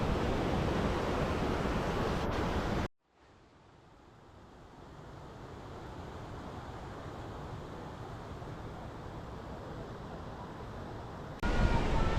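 The Mini Jogini waterfall near Manali rushes with a broad, steady roar. After a brief cut, the sound slowly swells back to a constant wash and grows louder again near the end.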